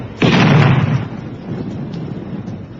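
A naval gun in a radio drama fires one loud, close boom that hangs for about a second, then a lower rumbling tail carries on under a faint background hiss.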